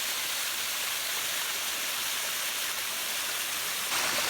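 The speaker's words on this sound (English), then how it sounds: "Lots of little waterfalls with," Steady, full rushing of small waterfalls in the Great Smoky Mountains, a continuous broadband roar close by with no breaks or voices.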